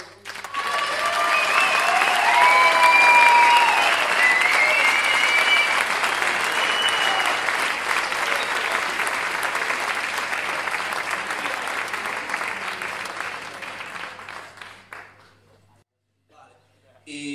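Audience applause at a blues concert, a loud sustained ovation of many hands that holds strong for about fifteen seconds, then fades out quickly to near silence.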